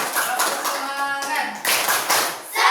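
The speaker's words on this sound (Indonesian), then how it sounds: "Sekali lagi tepuk tangan untuk kita semua." A class of students clapping hands together at the end of a lesson, a bright, busy burst of claps with a voice singing or speaking over it before the clapping surges again.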